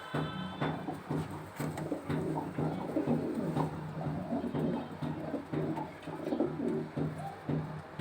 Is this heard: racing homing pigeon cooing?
yes